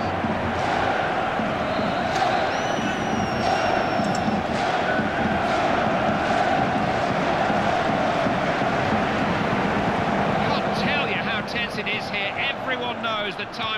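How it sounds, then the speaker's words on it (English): A stadium crowd in FIFA 14 roars steadily as Germany presses late in a match against the Netherlands, a loud, dense wash of cheering that runs throughout, with sharper whistles and shouts swelling near the end. "Crowd urging Germany forward."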